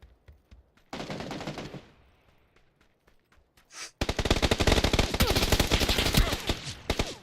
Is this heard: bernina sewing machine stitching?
no